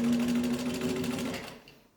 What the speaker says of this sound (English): These old all-metal Singers have plenty of power to push the needle through things.